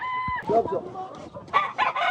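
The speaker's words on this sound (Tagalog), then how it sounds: "Manok na yan." A gamefarm rooster crows close by, a short harmonic call followed by further squawky crowing bursts, with some background noise between.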